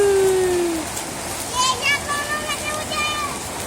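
Rain pours steadily outdoors while children play and bathe in it, a constant hiss of falling water running throughout. Children's voices and squeals come and go over the rain.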